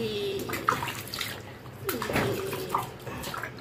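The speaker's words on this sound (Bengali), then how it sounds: "এই জলটা দিয়ে একটু ওর গাটা পরিষ্কার করে দিই" A baby is rinsed with water in a tub, making soft splashing and pouring sounds. An adult voice talks quietly underneath and small squeaks break in now and then.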